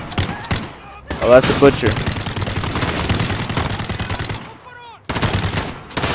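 Sustained automatic gunfire rattles loudly in a Call of Duty: Modern Warfare campaign mission, dense rapid bursts filling most of the moment, dropping out briefly before resuming, with a player's voice talking over it.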